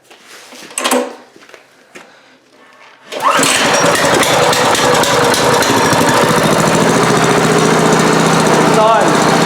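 Go-kart engine on a new mount: first some handling clatter and a brief pull, then the small engine catches and runs at a loud, steady buzzing drone, up close.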